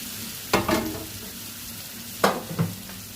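Ginger masala stirred in a pan for prawn biryani, with two short bursts of sizzling and scraping set apart over quiet background.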